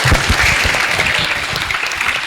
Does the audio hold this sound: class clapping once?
yes